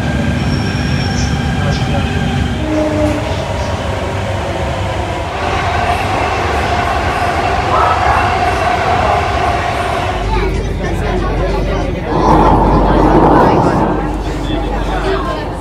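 A Delhi metro train rumbles steadily along the track, with whirring motor tones and wheel noise rising and shifting as it moves, then a louder surge near the end; a voice talks briefly over it.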